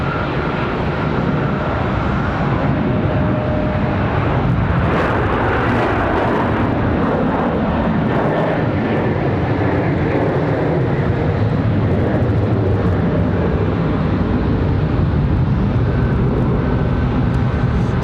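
At Charlotte Douglas airport, a jet airliner on its takeoff roll builds into a loud, sustained engine roar that stays strong through the whole stretch, with a rough low rumble and no talk.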